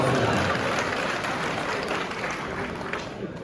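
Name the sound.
audience clapping at a qawwali performance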